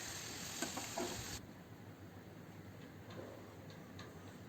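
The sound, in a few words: potato french fries frying in oil on medium flame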